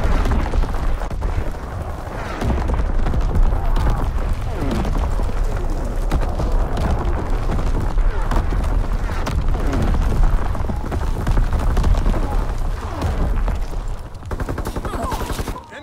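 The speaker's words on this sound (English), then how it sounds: "Incoming enemy artillery!" Enemy artillery fire in the video game Call of Duty: WWII: dense, continuous battle noise with repeated booms and rapid gunfire crackle. Shouted voices are heard faintly within the din.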